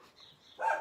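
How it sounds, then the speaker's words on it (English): A dog barks in the background of an indoor talk show, a short muffled burst near the end that rises above the low room noise. "That's my dog back in there. It's my dog."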